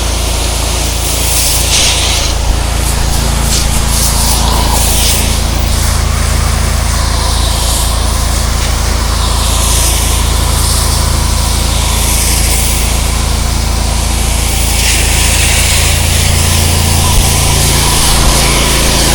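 A steady, loud pressure washer engine drone with a constant hissing spray on a stucco house front, close and continuous with no pauses.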